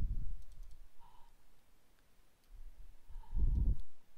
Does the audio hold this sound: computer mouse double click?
yes